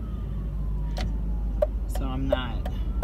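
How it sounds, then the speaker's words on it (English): An ambulance siren approaches from behind a moving car. Its faint, falling wail sits low under a person talking close by, over steady road rumble. "I hear an ambulance."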